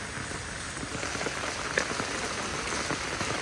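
Steady rain patters on a surface, a dense even hiss of drops with no voices, continuous throughout.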